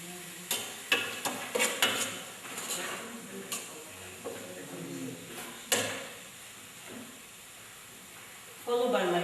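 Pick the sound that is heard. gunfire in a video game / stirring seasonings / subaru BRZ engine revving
stirring seasonings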